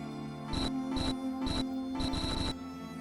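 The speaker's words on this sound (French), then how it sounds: "le garçon allume son téléphone et reçoit une notification venue du centre" A phone notification tone sounds as a short run of five bright chime pulses, the last two close together, clear and close against a low sustained musical drone.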